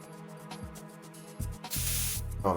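The coolant spray from Metal Gear Solid 2 hisses in a loud, continuous burst over a steady background game hum, starting partway through and running to the end.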